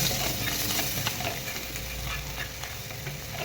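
A spice mix of coriander, turmeric and salt is stirred in a hot pan for masala dosa filling, with a steady sizzle and rhythmic scraping of the spoon. It sounds close and continuous, with no voices.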